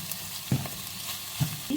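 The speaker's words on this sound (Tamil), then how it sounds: "சோறு போட்டுருவோம். போட்டு வச்சு மிக்ஸ் பண்ணிடுவோம்" Cooked rice, green chillies and egg are stirred together in a frying pan, a soft sizzle broken by a few quick scraping strokes of the spoon.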